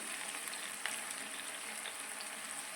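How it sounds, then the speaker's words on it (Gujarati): Fenugreek snack shallow-fries in a little oil, a soft, steady sizzle with faint crackles and one small tick, close and uninterrupted, with nobody talking. "એક બાજુથી સારી રીતે તળાય પછી તેની આપણે બીજી સાઈડ ફેરવી લઈશું."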